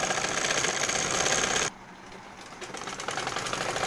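A sewing machine stitches the side seam of a child's cotton fatua, giving a dense mechanical whir that pauses briefly and then resumes at a steady pace.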